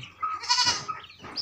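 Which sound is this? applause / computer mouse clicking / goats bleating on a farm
goats bleating on a farm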